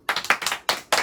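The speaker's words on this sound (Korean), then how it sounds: "박수" A few hands clapping close by in a quick, uneven burst of four or five sharp claps in an indoor room, with no talk over them.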